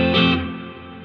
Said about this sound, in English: this plate reverb is much more present than